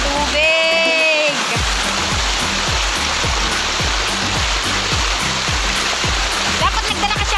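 Dam water rushing at Irosin in Bicol, a loud, constant broadband roar like a waterfall filling the whole scene, with a brief whistle-like tone early and rhythmic low thuds beneath.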